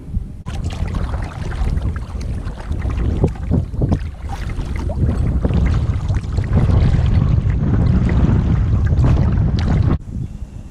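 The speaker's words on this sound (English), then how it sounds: "Maybe one of the windiest days I've ever been out in the kayak" Strong wind buffets the microphone on a lake during a kayaking outing, a loud continuous rumble and roar with gusts that swell and ease, and no one speaking.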